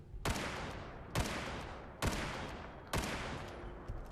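Concentrated gunfire from a group of shooters firing together in Fallout 4: four sharp, loud volleys about one second apart, each with a ringing decay, plus a fainter shot at the end.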